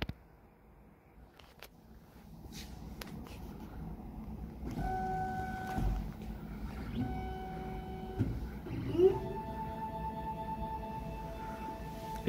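A Da Vinci 3D printer starting a print job, its motors switching on in steps with steady whining tones and soft mechanical hum rising after a quiet start, heard up close with no voices.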